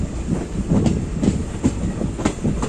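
A Varanasi–Mau passenger train rolls through Kadipur railway station with a steady rumble and a regular clickety-clack of wheels over rail joints, loud and close throughout.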